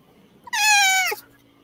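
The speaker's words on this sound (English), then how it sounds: "Oh, here comes a cat." A single clear cat meow, rising then falling, lasting about half a second, close and fairly loud over a quiet background.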